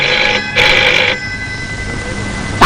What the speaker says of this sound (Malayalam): നേരം വിളിച്ചില്ല അപ്പോഴേക്ക് ഫോൺ കളി തുടങ്ങി